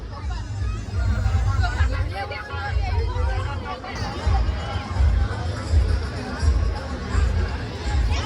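A dense crowd chatters at the Agri festival fair in Bhiwandi, a continuous close hubbub of many overlapping voices with a low rumble beneath, steady throughout.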